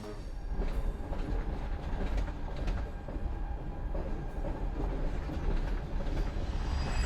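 A freight train carrying migrants on its rooftops rolls out of a station in Mexico, giving a continuous heavy rumble with rhythmic clanking and rattling of cars up close, steady throughout and without speech.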